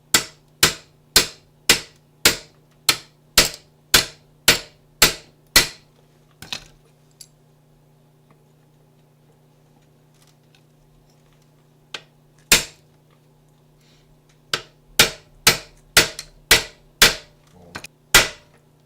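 Sharp metallic hammer blows drive a socket against a Ford Explorer U-joint cap, pressing it into place. Roughly ten evenly spaced strikes come first, then a pause with one isolated hit, then another quick run of loud, close blows.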